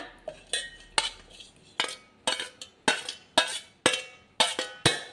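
Peeled sapota (chikoo) pieces dropped one after another into a steel mixer jar for juice, each landing with a sharp metallic clink, about a dozen close, evenly spaced knocks.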